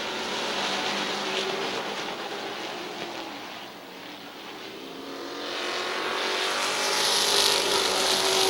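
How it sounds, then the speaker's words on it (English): A loose race car circles Midvale Speedway, its engine a continuous broadband roar that swells and fades as it passes, with no talk over it. "Kyle Grove got a loose race car"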